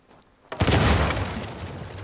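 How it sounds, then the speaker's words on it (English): Dynamite blast blowing a door open in Uncharted 4: A Thief's End, a sudden loud boom after a quiet moment, followed by a long rumbling, crackling roar with debris that slowly tapers off. "Hopefully we just blend in with the other explosions."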